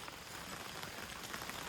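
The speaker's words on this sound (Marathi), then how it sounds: "अरे पाऊस कमी झाला." Light rain falling outdoors in a village setting, a faint, even, continuous patter with no other distinct sounds.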